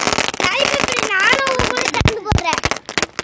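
Sivakasi sky shot firecrackers burst in a rapid string of sharp pops and cracks, mixed with rising whistles, loud and close, with people talking over them.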